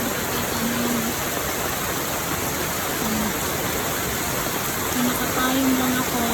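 Steady, loud downpour of heavy rain on a wet morning, a constant dense hiss and roar throughout, with brief faint tonal sounds and a voice partly under it.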